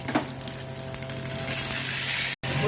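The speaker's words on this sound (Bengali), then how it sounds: "এবার পেঁয়াজ আর কাঁচা লঙ্কাটা ফোড়ন দেবো।" Onion and green chili tempering in hot oil with black cumin, panch phoron, dried red chili and bay leaf, a steady close sizzle and crackle that runs evenly, broken once by a brief dropout near the end.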